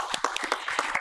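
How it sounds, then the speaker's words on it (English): Applause from a conference audience for a panel at a technical session, a brief burst of dense clapping with sharp individual claps standing out, fairly close and steady. "Let's give them a round of applause"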